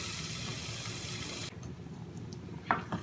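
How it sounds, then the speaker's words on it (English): Fresh tomatoes drop into a hot pan over medium-high heat for a tomato sauce, giving a steady close hiss for about a second and a half before it falls quiet, followed by a single light clink. "Now we're gonna add our tomatoes."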